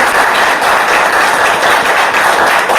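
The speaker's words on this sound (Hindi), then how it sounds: "तो जोरदार तालियां होनी चाहिए।" A crowd at a company seminar applauds loudly and steadily, a dense continuous roar of clapping with no gaps from start to finish.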